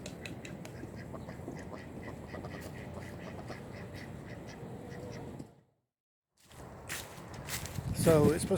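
Ducks quack in a cluster alongside shuffling footsteps and voices, then the sound cuts out briefly before more quacking and activity resume.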